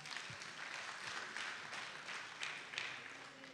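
Audience applause in a church congregation, a brief, fairly faint wash of clapping held steady for a few seconds.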